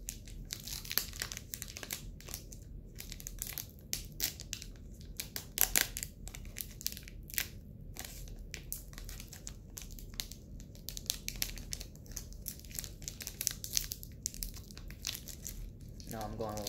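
A Japanese Pokémon card pack wrapper is slowly opened up close, with repeated crinkling and tearing of foil and pauses in between, under a quiet voice.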